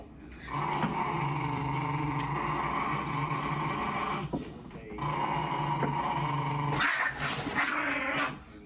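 A dog growls in two long, close, continuous rumbling stretches separated by a short pause, ending with a sharper snarling burst.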